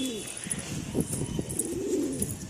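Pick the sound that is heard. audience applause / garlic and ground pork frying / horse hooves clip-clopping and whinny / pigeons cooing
pigeons cooing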